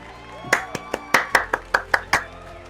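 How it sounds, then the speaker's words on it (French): Several sharp hand claps in an uneven sequence, about eight in total, close and fairly loud against a quiet background. "Je vous applaudis."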